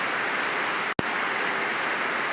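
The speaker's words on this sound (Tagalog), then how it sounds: "samahan nyo na lamang po akong pagmasdan yung patak ng ulan yan" Steady afternoon rain falls in a heavy, even hiss, constant and close, broken once by a brief dropout in the middle; no one speaks.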